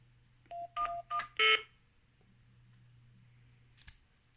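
Touch-tone keypad beeps as an access code is keyed into a EUphonic TR1400 telephone transmitter hooked to a Swisscom Box IP line: four quick tones in a row, then a faint click some seconds later, over a steady low hum.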